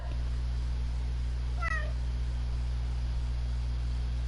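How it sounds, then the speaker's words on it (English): A pet cat gives one short, clear meow over a constant electrical hum and hiss in a quiet room. "I heard the meow."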